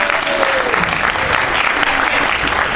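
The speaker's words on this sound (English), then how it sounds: "Another round of applause, please." A loud, sustained round of audience applause after a dance performance at a decorated celebration, many hands clapping in a dense, continuous wash from start to finish.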